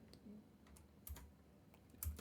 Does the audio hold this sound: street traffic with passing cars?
no